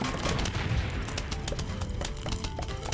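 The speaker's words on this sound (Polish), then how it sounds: "I jeszcze wybuch." A rapid burst of gunfire-like blasts and crackling explosions from the video game Plants vs. Zombies, dense and continuous, with no talking.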